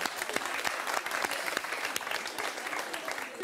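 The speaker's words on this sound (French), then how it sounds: "Ça s'applaudit." A studio audience breaks into lively applause, dense overlapping claps with a few sharper nearby ones, steady and fairly close throughout.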